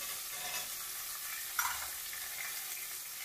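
Potato and carrot, with beans and peas, frying in a pan for Karnataka-style pulao, giving a steady close sizzle with a brief louder stir near the middle and no talking.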